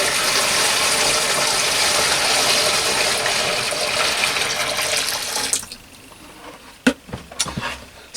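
Liquid for treating wild bird feathers poured steadily into a large tray, a loud continuous splashing wash that stops abruptly, followed by a few faint knocks and small clatters.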